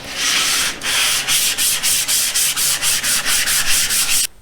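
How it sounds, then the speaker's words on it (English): Soft wood with stain being hand sanded between coats of polyurethane; loud, close rasping strokes repeat in a quick, regular back-and-forth rhythm with no talking. "I'm going to get all this scuffed, and then we'll come back and we'll get another coat on this."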